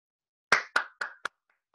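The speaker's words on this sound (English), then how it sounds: "You gotta have some claps and clicks." Applause after a poetry reading over Zoom: four distinct claps spaced about a quarter second apart, fairly close and crisp, followed by silence.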